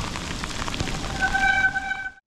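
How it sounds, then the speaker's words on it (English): Steady hiss of heavy rain pouring down, with a brief high whistling tone near the end before everything cuts to silence. "Oh man, it is really raining now."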